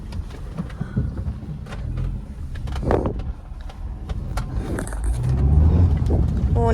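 A car driving along with a low, rumbling road and engine hum that grows louder toward the end, and people talking inside.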